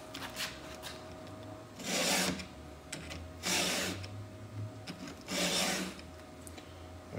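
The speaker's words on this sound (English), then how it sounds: "Basically, this file is pretty much idiot-proof. Anybody can sharpen their own chain now." A STIHL 2-in-1 file sharpener rasping along an 18-inch MS290 chainsaw chain gives three long, close gritty strokes, each separated by a quieter pause, with no one speaking.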